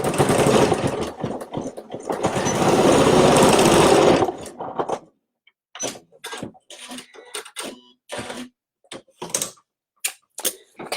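A sewing machine stitching a knotted fabric headband, with a dense continuous whirring run for about four seconds, then a series of short, choppy bursts of stitching separated by pauses.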